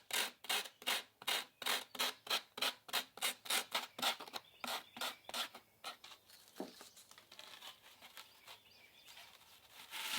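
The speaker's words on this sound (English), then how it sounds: "Even you can use sandpaper, particularly useful for smoothing out jagged areas." Sandpaper is rubbed hard over a small miniature built from a tree branch, giving a quick, regular series of raspy strokes at close range. The strokes slow and thin out toward the end, and no one speaks.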